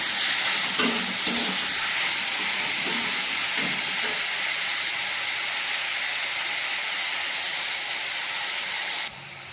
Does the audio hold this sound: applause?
no